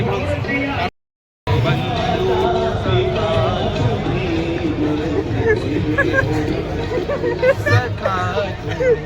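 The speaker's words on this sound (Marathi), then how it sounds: "गर्दी पण जबरदस्त आहे आज" A dense crowd chatters steadily at the Bahinabai festival in Jalgaon, a close, continuous babble of many voices with a brief drop to silence near the start.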